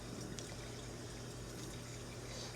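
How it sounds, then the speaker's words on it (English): Warm tap water runs steadily into a bowl, a soft continuous gush and trickle at low volume with a faint hum underneath. "warm tap water, and I'm just gonna put them in this bowl"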